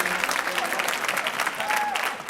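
Audience at a school variety show clapping for a teacher, a steady, moderately loud patter of hands with some scattered voices and cheers mixed in, lasting about two seconds.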